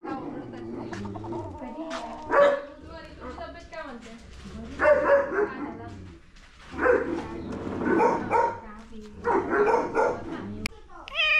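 A dog at a rural house greets arriving guests, its barks and yips coming in bursts at a moderate distance amid people talking nearby.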